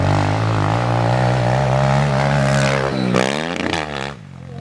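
A pit bike engine with a new exhaust revs hard and loud up close, then drops off with a few sharp backfire pops before fading.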